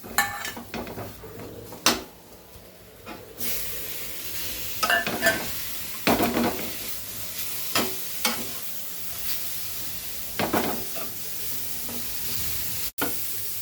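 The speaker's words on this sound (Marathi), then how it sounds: "आता वाटण भाजून तयार झाले." Onion, tomato and coconut masala paste roasting in a pan with ginger and garlic, a steady low sizzle broken by scattered scrapes and clinks of a spoon stirring against metal, with no voices.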